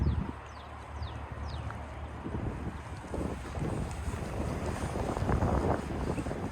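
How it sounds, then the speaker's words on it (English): Gusty outdoor wind buffets the microphone beside a parked 2026 Cadillac Escalade Platinum Sport, a continuous low rumble that swells and eases in waves and grows stronger toward the end. "This wind is kind of going in and out"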